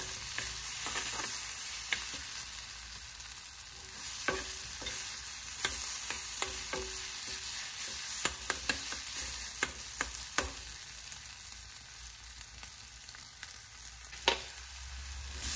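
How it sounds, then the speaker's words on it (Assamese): Bhurji being stirred in a pan over a medium gas flame, a continuous bright sizzle punctuated by repeated sharp scrapes and taps of the spatula, close and steady with no talking. "গেছৰ ফ্লেমটো মিডিয়াম কৰি যেতিয়ালৈকে ভুৰ্জি টাইপৰ টেক্সচাৰ এটা নাহে তেতিয়ালৈকে মই এইখিনি"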